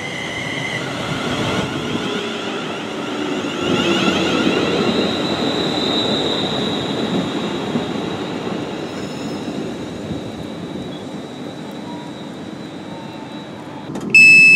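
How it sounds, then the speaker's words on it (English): A train pulling away from Rugeley Town station in a train simulator game, with continuous rumbling rolling noise and a faint high squeal or whine that stays steady throughout, ending in a sudden louder burst. "So we're now departing Rugeley Town Station."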